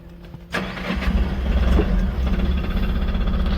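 A Tata Ace Gold mini truck's engine cranks and catches after a quiet moment, then settles into a loud, steady diesel rumble close by with no talking.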